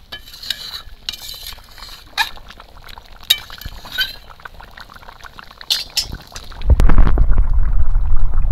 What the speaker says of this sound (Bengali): কিন্তু জল দিয়ে দেবো।